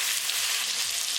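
Cauliflower and potato sizzle in olive oil and butter over a medium gas flame, a steady close hiss of frying filling the whole short stretch with no voices.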